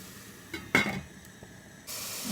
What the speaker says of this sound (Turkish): Arada kapağımızı açıp karıştırarak havuçlarımız yumuşayana kadar bu işleme devam ediyoruz.